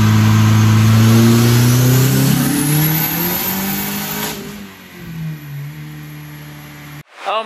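A turbocharged car under hard acceleration on a test drive after a new intake manifold was fitted, the engine note climbing loud and close for several seconds before easing off and dropping away, with a brief sharp noise at the end.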